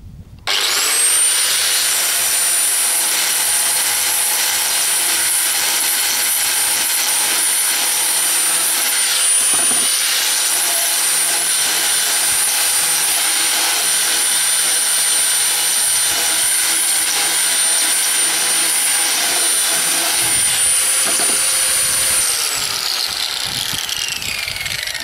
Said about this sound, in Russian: Ну, вот сейчас я больше болгаркой